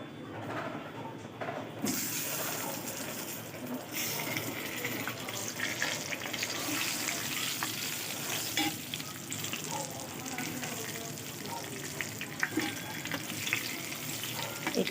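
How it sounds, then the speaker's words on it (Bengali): Eggplant pieces frying in hot oil that was already used to fry fish, giving a loud, dense, continuous sizzle with occasional pops and a few faint knocks and clinks, without talk. "এই গরম তেলে এই একই তেলে বেগুনগুলো লাল লাল করে"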